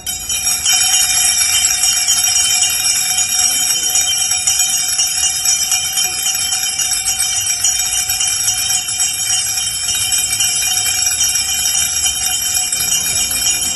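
An electric school bell rings continuously and loudly for a long stretch at a last-bell end-of-year ceremony, a steady metallic ringing with no pause.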